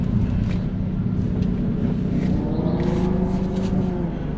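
A car engine hums steadily in second gear after a downshift from third, a close, continuous low drone with faint higher noises drifting over it.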